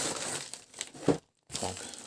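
Large plastic parcel bag from an AliExpress delivery being unpacked, close crinkling and rustling in short bursts with a brief silent gap, no talking.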